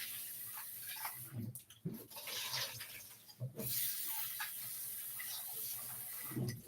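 Warm water poured off dried fish soaking in a bowl, a steady splashing trickle with a few louder gushes, close and alone with no talk.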